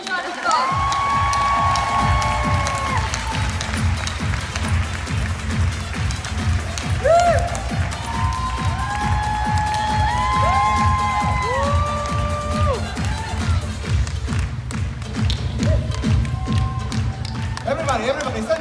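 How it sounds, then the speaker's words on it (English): Crowd cheering, whistling and clapping at a 2019 convention, filling the room loudly and steadily for the whole stretch, with voices shouting over a dense, roaring backdrop. "Let's give a huge round of applause."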